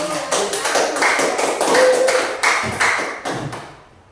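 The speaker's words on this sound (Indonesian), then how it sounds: "berikan aplaus untuk kelompok satu" A classroom group gives applause, with a burst of light clapping and tapping that runs steadily for a few seconds before fading out, loud and close.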